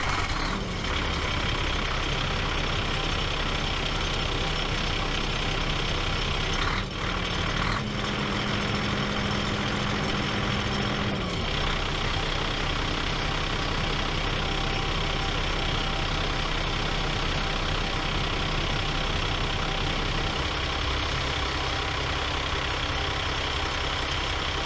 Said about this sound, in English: I'm going to start the truck, and you guys can see that thing rattling around in there.